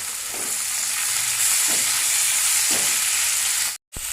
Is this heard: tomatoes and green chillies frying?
yes